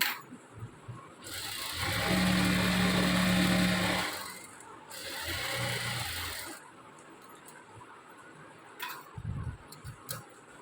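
A sewing machine stitching the lining of straight pants runs in two sustained bursts of fast whirring stitches, the first longer, then stops, with a few brief handling knocks afterward, close and fairly loud.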